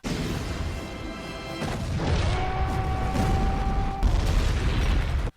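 A big explosion in the animated Justice League superhero film rumbles loud and dense for several seconds, with a heavy low roar, crackling debris and a tonal swell, before cutting off abruptly.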